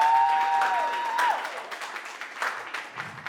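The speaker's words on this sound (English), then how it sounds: "Everybody clap it up for Davia." Applause from a live audience at a Cincinnati stage event, a brief burst of clapping that fades quickly under a sustained tone and scattered crowd noise.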